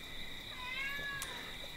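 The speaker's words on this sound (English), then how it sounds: "That's my cat." A house cat meows close by, a single short call with rising and falling tone over a steady background hum, no talking.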